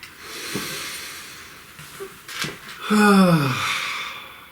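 A person draws a slow, deep breath close to the mic, with a soft hissing inhale followed by a longer audible exhale and a faint sighing tone.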